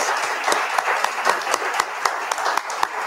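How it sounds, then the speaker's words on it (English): A room of attendees at a public commission meeting gives a round of applause, a moderate wash of clapping punctuated by several sharp, distinct individual claps close by. "give another round of applause for Mark and Pam"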